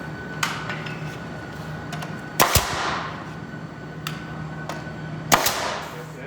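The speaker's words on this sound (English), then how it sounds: "What we're going to do is tack our end boards down." Hammer blows tack end boards down on a wooden skid for a low profile conveyor: three sharp, ringing impacts spaced a few seconds apart, each with a brief metallic decay, with a quieter tap or two between them.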